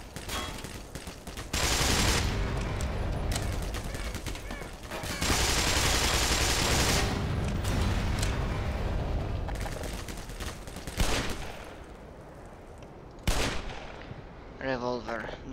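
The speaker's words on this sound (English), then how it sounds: "Who the fuck is shooting me?" Sustained bursts of gunfire aimed at the player in the Black Mesa video game, loud and dense in two long stretches with shorter volleys after, with a voice speaking briefly near the end.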